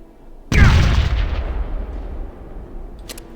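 A grenade explodes in the Fallout Tactics video game: one sudden loud, close blast with a heavy low-end boom that rolls off and decays over a couple of seconds, followed by faint brief clicks.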